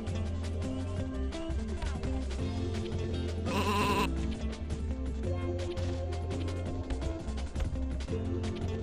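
Sheep bleating in the PS1 game Looney Tunes Sheep, Dog 'n' Wolf, a short bleat rising over continuous game music.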